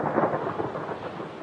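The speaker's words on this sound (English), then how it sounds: "Storm coming up." Thunder from an approaching storm over a camp in a dry draw rolls as a low, steady rumble with a rain-like hiss, heard alone and at moderate distance.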